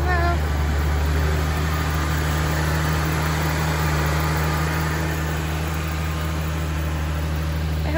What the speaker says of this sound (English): Video of the engine while it's running as well.